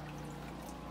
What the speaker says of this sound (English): also just heard water running